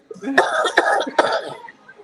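Three sharp, close coughs in quick succession, loud and harsh, with a little breathy throat noise between them.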